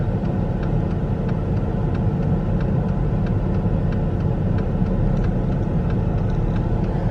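Heavy cement truck engine idling and rumbling nearby in slow traffic during a funeral procession, a steady low drone with faint regular ticking throughout, no voices.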